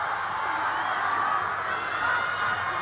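A big stadium crowd at a 1990 rugby league match, Canberra against the Sharks, roars and cheers continuously at full volume without a break, with no voices standing out.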